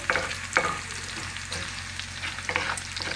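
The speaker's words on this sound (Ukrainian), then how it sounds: "І буду обсмажувати ковбаску" Sausage frying in rendered pork fat in a pan, a quiet steady sizzle broken by a few soft stirring scrapes, with no talking.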